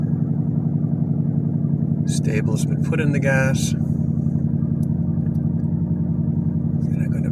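A Ford Mustang Boss 302 idles as it warms up on a full tank, a steady low throbbing rumble that runs throughout while someone speaks briefly over it.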